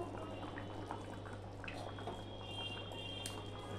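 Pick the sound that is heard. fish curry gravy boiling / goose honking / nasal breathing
fish curry gravy boiling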